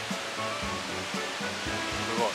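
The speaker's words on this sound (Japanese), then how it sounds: "もう滝がガーンと前に見えてますね" Fukuroda Falls, one of Japan's three great waterfalls in Ibaraki, gives a steady broadband roar of falling water, continuous and fairly loud throughout, with faint low murmurs of people beneath it.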